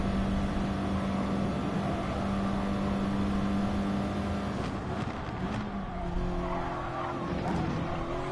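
Race car tires squealing under braking in GT Sport, with a steady engine drone and a sustained high tire squeal that shifts pitch as the car slows into a corner, no voices.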